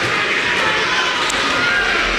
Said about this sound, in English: the crowd is in such full throat now